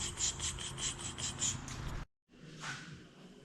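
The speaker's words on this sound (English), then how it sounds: "sanding! I love sanding." Steady rubbing rasp of sandpaper working a quad frame, close and fairly quiet, in repeated strokes that stop briefly and then resume.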